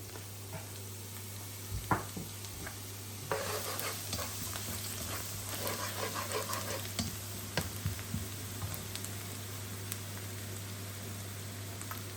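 Minced garlic frying in oil in a pan for spicy noodles with prawns and mushrooms, a steady soft sizzle with occasional stirring scrapes and light clinks, close and moderately quiet, no talking.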